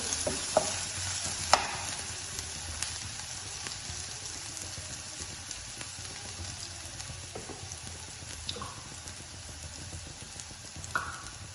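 Coarsely ground garlic, about 20 to 25 cloves, frying in a pan for a spicy Gujarati chaat while being stirred, with a steady low sizzle and scattered light scraping clicks, moderately close and with no talking.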